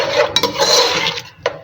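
Finely chopped onions frying in oil in a pan for a restaurant-style chicken karahi, a steady close sizzle with a few sharp clinks of a utensil against the pan.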